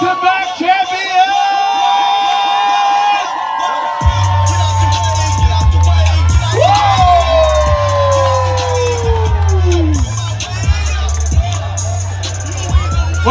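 A crowd at the 2019 Slingin Wings wing-eating contest cheers on the back-to-back champion with loud whoops and rising, swooping shouts over a steady low rumble of noise.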